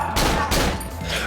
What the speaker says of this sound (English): Here's where the game turns into a shooting gallery.